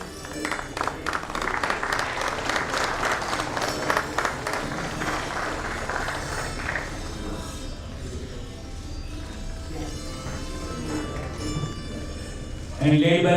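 An audience at a Builders Association of India Pune event claps for the jury, a steady patter of applause that thins out partway through, with background music and a voice over the top.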